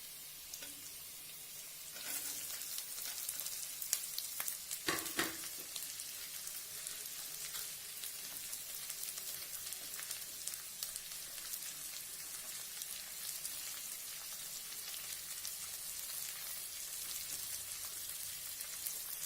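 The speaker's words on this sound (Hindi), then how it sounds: "अब इसको थोड़ा भूनेंगे। प्याज हमारा हो गया, रेड हो गया, तो हम सब डाल देंगे।" Onions and masala fry for an egg pav bhaji gravy, a steady bright sizzle with crackling spatters running throughout, briefly louder around a stir or added ingredient, fairly close and without talk.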